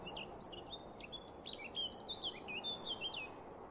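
Chickadees call in Canadian woodland, a series of thin, high whistled chirps repeating close together over faint, steady outdoor hiss.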